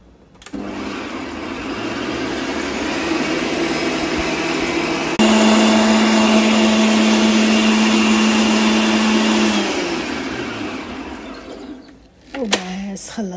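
An electric hand mixer whisks a creamy cream cheese mixture for knafeh cheesecake, a loud steady motor whine held for about ten seconds, jumping in pitch midway, then winding down and stopping, with handling clatter at the end.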